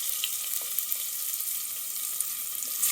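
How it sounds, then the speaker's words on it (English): Ginger and garlic are being added to hot oil for ragda pattice, and a steady, bright sizzle carries on through the whole stretch with small pops and light stirring scrapes and no voices. "Now the ginger and garlic is being added"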